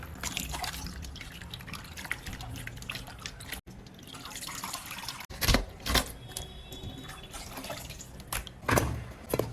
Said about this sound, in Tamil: நாங்கள் மட்டனை வந்து கொஞ்சம் மஞ்சள் போட்டு கழுவி போடுவோம்